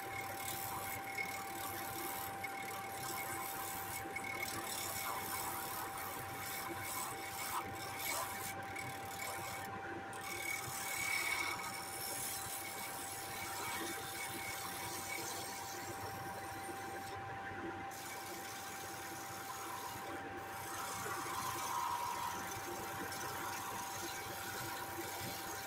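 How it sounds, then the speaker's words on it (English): A lathe spins a bowl lid blank of wood while a 3/8 inch gouge turns its top, giving a steady, moderate scraping hiss with a constant motor hum that runs without pause. "chuck the blank and start turning the top of the lid. Still using my 3/8 inch holdouts."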